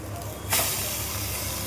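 Eggs for egg dum biryani hit a hot pan with a sudden loud hiss, then settle into a steady close sizzle that continues to the end.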